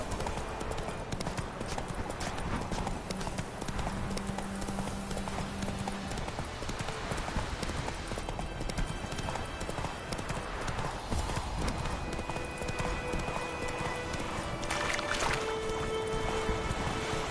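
Hooves of the horse Roach clip-clop steadily at a gallop in The Witcher 3, continuing through the whole stretch as a busy rhythmic patter mixed with game ambience and water-like sounds.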